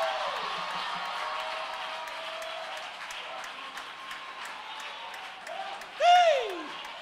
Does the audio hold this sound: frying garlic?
no